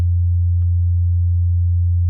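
A steady, pure low sine tone of about 87 Hz from a synthesizer, sustained evenly and alone with no other sounds.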